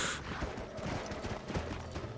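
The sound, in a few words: horse hooves in the video game Red Dead Redemption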